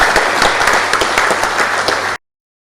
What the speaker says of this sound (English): give our employees a round of applause and appreciation for their safe work environment